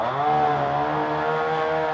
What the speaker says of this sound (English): Sounds like a chainsaw.